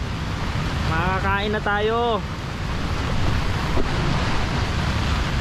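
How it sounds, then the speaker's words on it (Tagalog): Strong typhoon wind and crashing waves at a beach campsite, loud continuous roar with buffeting gusts on the microphone, while someone speaks briefly over it. "Oh, lakas ng hangin at saka alon ng tubig"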